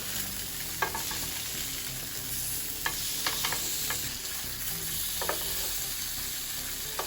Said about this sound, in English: we're gonna grill our tofu for around 4 to 5 minutes on each side until they're slightly charred and they're cooked through